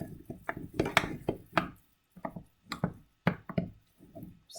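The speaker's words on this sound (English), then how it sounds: "Stir, stir, stir." A spoon stirs a falafel mixture in a bowl, giving a series of irregular, close knocks and scrapes in uneven bursts with short pauses between them.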